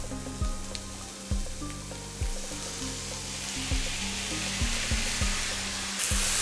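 Beans hitting a pan of softened onions set off a steady, close sizzle, with periodic low thumps and scrapes as the mixture is stirred, no voices over it.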